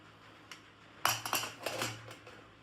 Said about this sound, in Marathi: मग कुकर खोलत जा.